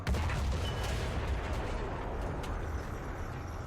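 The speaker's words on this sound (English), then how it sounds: "How fast can you fire an ATGM?" Anti-tank guided missile launched from a vehicle in War Thunder, a sharp blast at the start that rolls into a sustained loud rushing roar, steady and close, with no voices.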